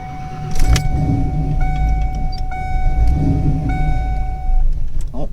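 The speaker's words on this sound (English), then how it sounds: "you go to start your car once you got fuel." A cammed Ford Foxbody Mustang 5.0 cranks and rumbles low and loud up close, with steady electronic chimes and beeps ringing over the engine throughout.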